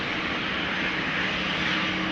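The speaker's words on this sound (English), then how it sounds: "Now next to the lineup is a 737-700 to Munich." Boeing 737-700 jet engines roar steadily at Amsterdam Schiphol Airport, a loud continuous broadband rush held at an even level throughout, heard close with no pauses.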